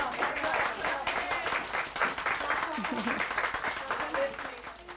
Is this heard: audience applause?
yes